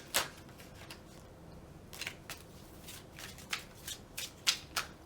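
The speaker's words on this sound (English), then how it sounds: "We're going to shuffle them a little bit more." Tarot cards being shuffled by hand, quiet riffles and snaps in uneven bursts, close up with no talking.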